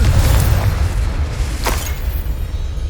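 A Confringo blasting spell explodes in Hogwarts Legacy, with deep rumbling booms and two sharp bursts against a steady, loud low roar of combat.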